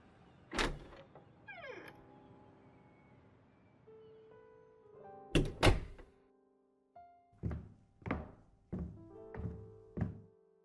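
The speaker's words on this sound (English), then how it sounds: "Let me get the door." An indoor door being opened on arriving home, with a clunk of the latch and handle followed by a creaking swing and a series of knocks and thumps as it moves and settles, close and fairly loud, with no talking.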